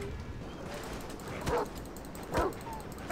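Dogs in the video game Overgrowth bark and yip in two short, sharp bursts over a constant game background hum.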